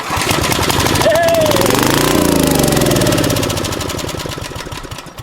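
An old Generac generator's small engine cranks and catches, settling into a rapid, rough mechanical chugging that stays loud and steady before easing slightly toward the end.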